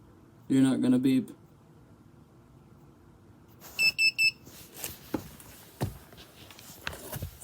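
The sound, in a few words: bathroom scale beeping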